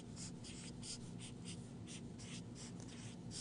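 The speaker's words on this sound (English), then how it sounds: "Maybe I'll even write that down." A pen or marker writing out an equation while solving an inequality, heard as faint rhythmic scratchy strokes over a steady background hiss, with no speech.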